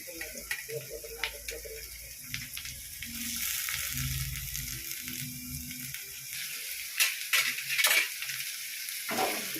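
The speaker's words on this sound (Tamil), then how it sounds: "இப்போ நல்லா வதக்கிடுவோம்" Onions and green chillies frying in a pan, a steady broadband sizzle with scattered clinks and scrapes of stirring, growing busier toward the end, with some voices in the background.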